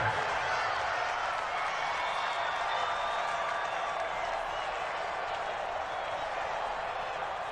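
Crowd noise in a Madden-style football video game, Rams at Dolphins, building before a big third down: a dense, steady wash of cheering and applause, with a commentator talking over it.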